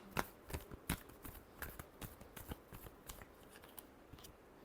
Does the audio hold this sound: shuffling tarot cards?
yes